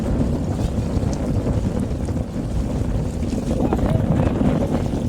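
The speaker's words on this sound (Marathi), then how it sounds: "तर वारा बी जबरदस्त आलेला आहे." Strong wind buffets the microphone at sea during a traditional sailboat race at Versova, with a loud continuous roar of gusts and water rushing against the boat throughout.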